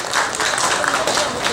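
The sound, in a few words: audience applause welcoming a poet at a mushaira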